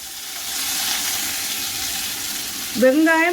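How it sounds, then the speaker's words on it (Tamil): Curry leaves and onion frying in oil for a chicken devil curry, a loud, close, steady sizzle that ends with a voice starting to speak over it. "இப்போ இது பொரிஞ்சிக்கியது. கருவேப்பிலை கொஞ்சமும் வெங்காயம்"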